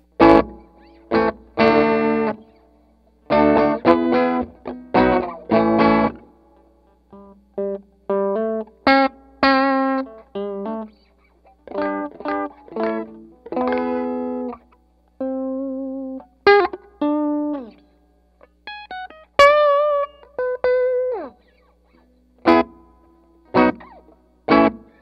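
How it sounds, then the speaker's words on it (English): Electric guitar notes and chords through a Vox AC100 amp with reverb at full ring out heavily drenched, each phrase leaving a washy splash that decays between playing. "Hopefully you can hear that nice splash as the reverb echoes off or decays off."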